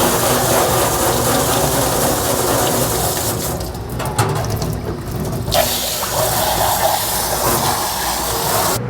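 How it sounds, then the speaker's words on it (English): Water runs steadily into a slop sink as plaster-coated casting implements are rinsed off, a continuous broadband splashing rush that briefly thins in the middle, loud and close with no talk. "I'm just gonna wash off the implements before the plaster dries."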